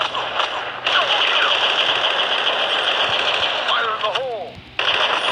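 Gunfire crackles in bursts in the online shooting game Tập Kích while an M1911 pistol is in use, under steady game noise with someone talking over it.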